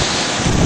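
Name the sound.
ocean waves crashing in Hawaii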